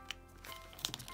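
Letter paper being folded for origami gives soft, close crinkles and a few sharper creasing snaps, quiet and intermittent with no talking.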